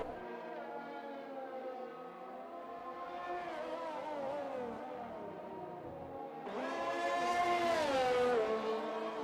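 F1 race car engine in F1 2020 at the Bahrain Grand Prix, a sustained high-pitched whine climbing and shifting through gears, then surging louder and higher as the car accelerates with DRS open down the straight, no talking.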